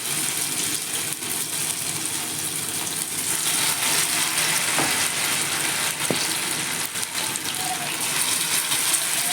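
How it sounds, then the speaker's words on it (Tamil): Marinated chicken pieces frying in hot oil for chilli chicken, a steady loud sizzle and crackle throughout with a few sharp pops, and no talking. "ஒவ்வொரு பீஸாக நம்ம அதை போட்டு நம்ம ஃப்ரை பண்ணி எடுத்துக்கலாங்க."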